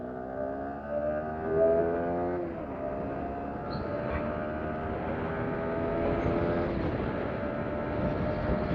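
A Yamaha R15M motorcycle, 2026 carbon fibre edition, riding along the Waluj bypass road: a steady, close engine drone with wind rush, its pitch rising and resetting at a couple of gear changes.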